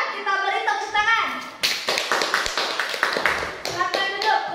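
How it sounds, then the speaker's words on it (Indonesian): Students in a classroom clap for a group presentation, an uneven burst of hand claps following a teacher's voice and children's talk. "Kita beri tepuk tangan."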